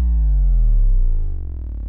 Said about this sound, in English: what I like to do is I like to give it some overdrive distortion